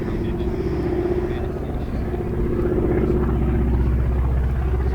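Aerobatic propeller aircraft flying at an air show, a loud continuous engine drone with a throbbing low hum, under someone talking over it throughout.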